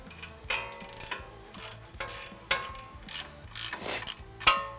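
A ratchet on a 19mm socket loosens a tie rod end nut on a 2016-2020 Tacoma, giving bursts of quick metallic clicking in several short strokes, close and clear with no talking.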